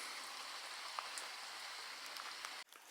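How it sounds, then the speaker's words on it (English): Heavy rain falls with water rushing down a gutter, a dense steady hiss and patter with occasional drips, captured faintly before cutting off abruptly near the end. "So we get an idea of really heavy rain with the water rushing down the gutter."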